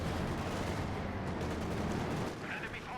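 Gunfire against an 85 tank in Company of Heroes 2 forms a dense, continuous wash of shots and artillery-like booms, loud and close, with rounds missing and bouncing off armor.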